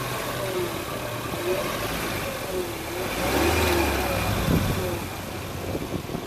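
A Suzuki Jimny engine idles, then revs up and falls back, the drone rising briefly midway, with a loud whirring noise from the gearbox area riding on top of the engine note.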